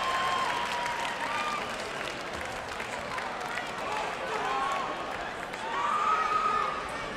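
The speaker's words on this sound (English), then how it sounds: "let's give both these big guys a round of applause" A crowd at a local fight event in Butte applauds, a continuous wash of clapping and cheering that swells near the end, with a voice talking over it.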